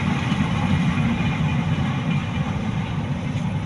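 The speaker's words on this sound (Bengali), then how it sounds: "চলে গেল ঢাকাগামী ট্রেনটি।" A Dhaka-bound intercity train rumbles past on a railway line beside a rural house, a loud, steady low roar that holds for the whole stretch without pause.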